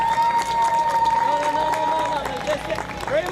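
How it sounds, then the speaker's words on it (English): Audience applause and cheering at a soccer tournament championship, a dense wash of clapping with crowd babble that holds steady throughout, with a whistle-like tone running underneath. "Please give yourself a big hand of applause."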